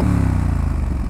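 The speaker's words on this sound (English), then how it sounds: "this is a 270-degree parallel twin, 900 cc's, not a screamer of an engine" A 2020 Triumph Street Scrambler's 900 cc 270-degree parallel-twin engine idles close by, a loud, steady, throbbing low rumble with an even pulse and no voices.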